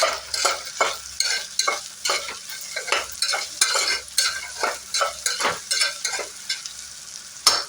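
Potato and okra sizzle in a hot pan while a spoon scrapes and stirs in quick repeated strokes, close and steady, no talking.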